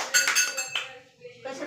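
A spoon clinks against a dish in a few quick metallic taps during a listening game for young children, with a brief pause before a final clink.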